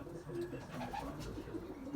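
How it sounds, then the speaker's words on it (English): Racing pigeons, a team of about forty young birds, coo steadily inside a loft, their low burbling calls overlapping in a close, continuous murmur with no talk. "And I think there's 40 pigeons in here."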